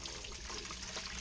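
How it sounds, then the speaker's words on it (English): Water trickles steadily through a strainer onto a bucket of grain mash while an all-grain IPA is homebrewed, a soft, continuous splashing with no talk. "We want it to just sort of trickle on there."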